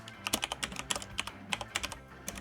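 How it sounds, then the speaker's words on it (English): Quick, steady keystrokes clack close up on a full-size mechanical gaming keyboard, a crisp run of sharp clicks with no talk over them. "I ended up finding a full-size mechanical gaming keyboard"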